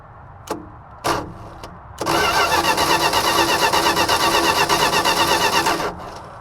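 Engine cranking on the starter, cold with the carburetor closed and one spark plug removed, during a compression test: a few short clicks, then about four seconds of steady rhythmic loud cranking before stopping.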